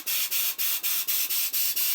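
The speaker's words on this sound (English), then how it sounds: "I'm just going to blow that through again with the air compressor" An air compressor blows bursts of air through the hose of an Atco Balmoral cylinder mower, eight rhythmic hissing pulses in quick succession, close and loud.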